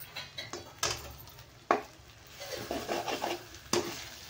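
Spoon stirring spiced eggplant in an oily pan, with soft scraping strokes and a few sharp clicks against the pan over a faint low sizzle, close and quiet.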